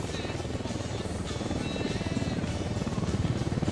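Helicopter flying in the video game Ghost Recon Wildlands, a steady low rotor thrum and engine drone that grows slightly louder and more pulsing toward the end, with no talk over it.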